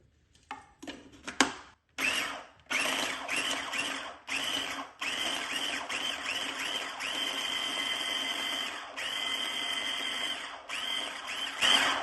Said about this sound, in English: Just gonna grind them.